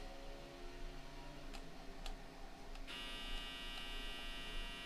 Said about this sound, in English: You hear that? The dryer in there buzzing?